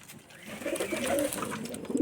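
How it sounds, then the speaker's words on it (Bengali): A Rajshahi Giribaz flying pigeon gives a brief, soft, low coo close by, rising and holding over roughly two seconds in a quiet setting. "এই যে এটা হলো উড়াবাজির কবুতর"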